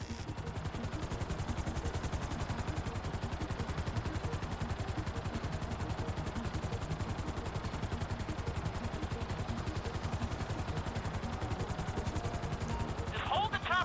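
A helicopter hovers in Grand Theft Auto V, its rotor chopping in a fast, even beat that stays steady and loud from start to finish.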